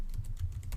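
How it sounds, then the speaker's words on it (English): Quick, light keystrokes on a computer keyboard, about eight soft clicks in under a second, close and fairly quiet with no talking. "we can type enter with a new line and then space dash space"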